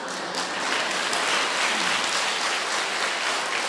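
Audience at a Buddhist sermon clapping hands together, a dense, steady wash of applause that stays full and even throughout with no voices breaking through.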